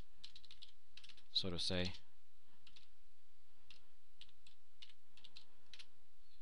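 Typing on a computer keyboard during a pendulum lecture: clusters of light, crisp key clicks come in irregular bursts, close and quiet, with a brief spoken phrase near the start.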